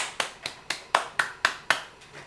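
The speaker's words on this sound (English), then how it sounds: "clap it up" Hands clap slowly and evenly, about eight crisp claps spaced roughly a quarter second apart, fairly close with no talking.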